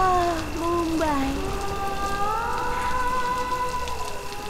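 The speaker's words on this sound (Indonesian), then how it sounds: "Langit cerah beberapa waktu yang lalu dan sudah mulai hujan sekarang" Steady rain falls in Mumbai as a constant soft hiss, with gliding tonal sounds layered over it throughout.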